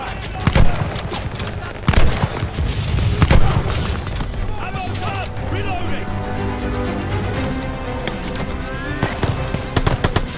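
Heavy machine gun fire rattles in Call of Duty: Vanguard, loud bursts and booms mixed with rapid crackling shots, while soldiers shout over the battle.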